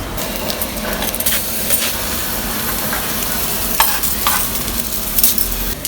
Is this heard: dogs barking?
no